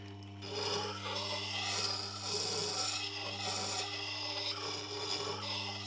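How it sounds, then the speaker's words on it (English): A knife blade is drawn over a sharpening stone in steady, close, gritty rasping strokes that repeat in an even rhythm over a low background hum. "sharpening on the same level of the stone all the time"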